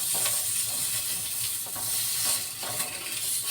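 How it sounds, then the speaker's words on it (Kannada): Bitter gourd sizzles steadily in hot oil in a pan, stirred with a spoon that scrapes now and then, the close frying hiss continuous throughout. "ಸ್ವಲ್ಪ ಮ್ಯಾಲಿನ ಭಾಗ ಎಲ್ಲ ಫ್ರೈ ಆಗಬೇಕು ಅದು ಈ ಥರ ಹುರ್ಕೋಬೇಕು ನೋಡ್ರಿ"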